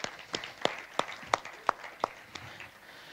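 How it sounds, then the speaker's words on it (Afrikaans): Church congregation clapping hands in a slow, steady rhythm, a few distinct claps spaced about a third of a second apart, moderately faint in a reverberant room. "kom ons gee vir die Here 'n hande klap, ek dink hy verdien dit."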